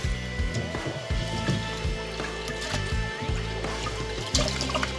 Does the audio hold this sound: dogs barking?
no